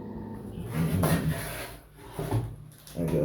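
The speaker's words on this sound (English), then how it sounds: "I got this side sanded" Wooden horizontal stabilizer of a giant scale P-47 Razorback model plane being hand-sanded, with steady close rasping strokes in several bursts separated by brief pauses.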